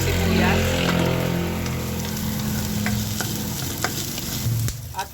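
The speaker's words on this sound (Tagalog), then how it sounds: "Ilagay na natin yung ating bawang. Isunod na natin guys yung ating sibuyas." Garlic and onion sauté in a hot pan for ginisang upo, a steady close sizzle and crackle with scraping stirs and light spoon clinks throughout, loud and continuous, with a faint voice now and then.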